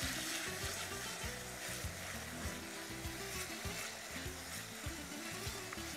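Tomatoes with softened garlic sautéing in a pan for a tomato thokku, giving a steady close sizzle and frying crackle with scraping stir sounds throughout and no talk.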